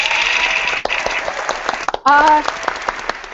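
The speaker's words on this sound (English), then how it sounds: "Tony, a round of applause." A crowd claps steadily, with a voice talking over the applause and a brief louder vocal burst near the end.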